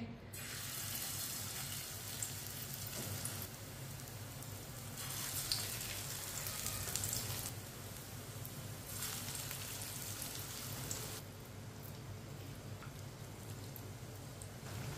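Lauki (bottle gourd) kababs frying in oil in a pan, a steady soft sizzle and crackle that swells and eases in broad waves throughout, fairly quiet and alone.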